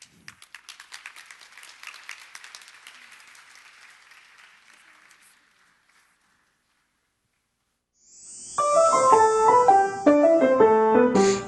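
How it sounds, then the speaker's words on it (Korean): Congregation applause at a church sending-off service for a student short-term mission team to Cambodia, greeting children taking the stage; steady crowd clapping fades out over several seconds, followed after a pause by loud tonal music. "아이들이 준비하고 나올 때 뜨거운 박수로 맞이해 주시길 바랍니다."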